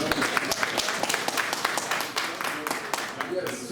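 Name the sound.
audience applause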